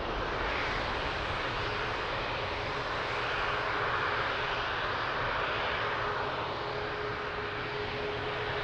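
A United Boeing 787 airliner at Lisbon Airport gives a steady, broad engine roar that holds loud and even throughout, swelling slightly mid-way, with no voices.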